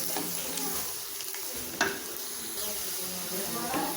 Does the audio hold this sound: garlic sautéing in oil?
yes